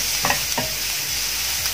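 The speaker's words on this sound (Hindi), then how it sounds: "लहसुन को इस तरह के भून लीजिए" Crushed garlic frying in a pan with a steady, fairly loud sizzle and a few scraping stirs close by, without talk.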